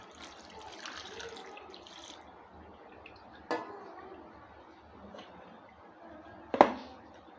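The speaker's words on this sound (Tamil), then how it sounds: "இதை தண்ணி விட்டு கொஞ்சம் அப்படியே அலசிக்கலாங்க" Water splashes and sloshes steadily as curdled milk for rasgulla is rinsed by hand, with a couple of sharp clinks against a container.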